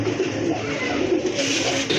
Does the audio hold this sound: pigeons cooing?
yes